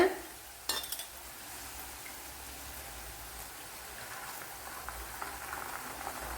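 Jackfruit chips frying in hot oil with salt water and turmeric added, giving a steady soft bubbling sizzle with a sharp splash near the start, no talk.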